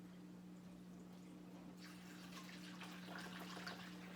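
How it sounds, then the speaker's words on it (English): Water poured from a one-gallon jug into a home fish tank during cleaning: a steady splashing pour begins about midway and continues to the end, moderately close, over a constant low electrical hum. "I'm gonna pour that. This is 1 gallon of water."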